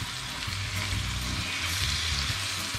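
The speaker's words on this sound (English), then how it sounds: "I'm going to flip one last time my pineapple and then we're going to get ready to do the flambé." Pineapple slices frying and caramelising in a pan for a spiced dessert, a steady close sizzle with soft bubbling throughout, no voices.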